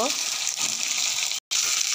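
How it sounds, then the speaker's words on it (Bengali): Okra frying in hot oil in a home kitchen pan, a steady bright sizzle filling the clip with a brief dropout near the end; faint voice-like sounds sit underneath. "ভেন্ডিগুলো তেলে দিয়েছি, ভেন্ডিগুলো ভালো করে ভেজে নেব"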